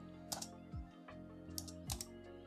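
Several brief keyboard taps in small clusters as a command is entered on a computer keyboard, close and fairly quiet over a steady background hum.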